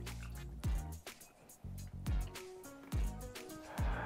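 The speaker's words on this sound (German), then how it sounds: "Und dann kommt noch ein bisschen Flüssigkeit, 250 Gramm Wasser hinzu." Water, 250 grams, poured from a measuring jug into a pot of pumpkin soup in a home kitchen: several short splashy pours and drips, close by, alternating with a person talking.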